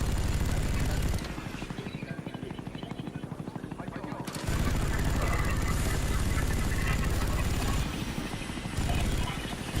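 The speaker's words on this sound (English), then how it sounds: "One of the few chopper gunners I use that doesn't get shot down." Helicopter rotor chop from a chopper gunner killstreak in a shooter game thumps steadily, broken by bursts of gunfire and shifting game effects, with a voice talking over parts of it.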